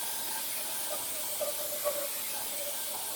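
Contact cleaner sprays onto a lapped Ducati 4V cylinder head in a steady, close, airy hiss with slight flutters, lasting the whole moment with no talking.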